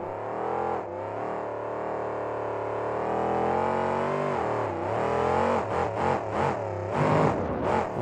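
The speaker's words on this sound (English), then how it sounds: "easily the loudest truck in all of KORR Monsters with those zoomy headers" Doggone Crazy, a monster truck with zoomy headers at a 2007 KORR Monsters show in Arlington, Texas, roars loudly and steadily, its engine revving up and down with sharp throttle blips near the end.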